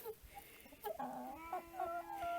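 Several chickens cluck and squawk close by, a rooster's calls mixing with the hens' chatter in an ongoing farmyard jumble.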